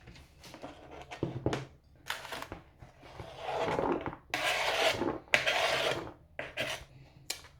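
Carrots being sliced into rounds on a wooden cutting board, a series of crisp knife chops in irregular bursts, close and fairly loud, with no talking.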